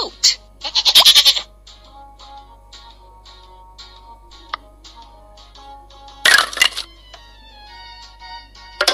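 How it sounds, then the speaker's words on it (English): A goat bleats loudly in a kids' animal puzzle game, then soft ticking and tapping follow, and a second bleat comes near the end. "Goat."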